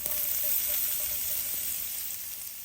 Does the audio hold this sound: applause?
no